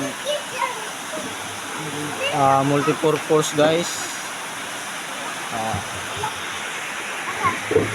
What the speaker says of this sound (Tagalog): Nag-ulan dito sa amuang